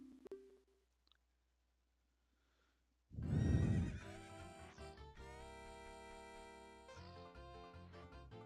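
Horse neighing in the video game The Legend of Zelda: Ocarina of Time, a loud whinny bursting in after a near-silent pause, then ringing tonal game music that carries on to the end.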